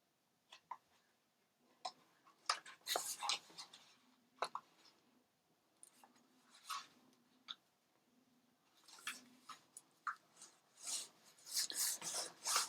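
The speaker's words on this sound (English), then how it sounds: "Just burnish that down and continue on." Paper hinge of a handmade autograph book being burnished down, soft close rubbing and scraping strokes in irregular bursts with quiet pauses between, no talking.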